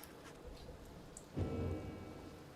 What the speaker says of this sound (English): amid a downpour with no interest whatsoever in relenting